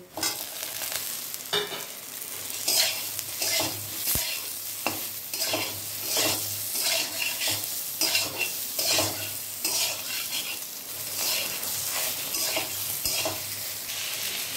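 Pointed gourd (potol) sizzles in hot oil with salt and turmeric while a spatula stirs it in a pan, with steady frying hiss and repeated scraping strokes throughout.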